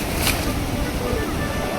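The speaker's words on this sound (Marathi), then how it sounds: "आता लाटा वाढत" Rising ocean waves at the shore of Srivardhan beach, a steady, loud roar of surf mixed with wind buffeting the microphone, continuous throughout.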